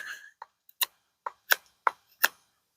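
A Worktuffgear Kitsune Gen 2 knife carves wood into a tent stake, giving six or seven crisp, separate cutting clicks at an uneven, roughly half-second rhythm, close and fairly quiet with silence between strokes.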